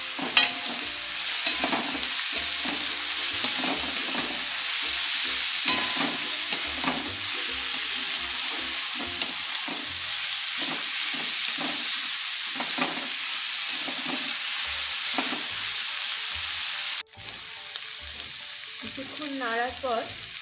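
Sliced onions with a little sugar fry in a pan, sizzling continuously as a spatula scrapes and stirs them in irregular strokes, close and moderately loud.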